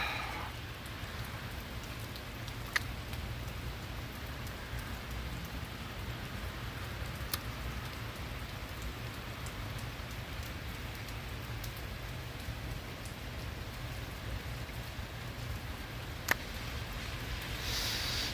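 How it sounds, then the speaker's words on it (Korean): Steady rain falls outdoors in winter, a constant dense patter on surfaces with no talking, holding even from start to finish apart from a couple of brief clicks. "비가 오는데도 비를 맞고 가는 수밖에 없습니다"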